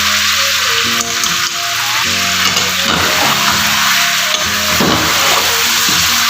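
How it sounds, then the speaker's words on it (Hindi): Chicken sizzles and fries loudly with garlic and ginger paste in a restaurant-style Afghani karahi, a steady crackling hiss broken by intermittent stirring scrapes close by. "अब हमने चिकन की भुनाई करनी है"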